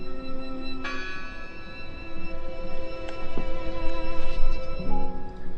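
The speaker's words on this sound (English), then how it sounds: "I heard the bell." A bell in the video game Draugen rings out several times, its struck tones ringing on and overlapping against a steady ambient background.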